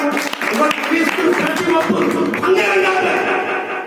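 A church congregation at a pastor's service claps loudly and rapidly in a dense, continuous burst, close and full throughout, with voices mixed into the applause.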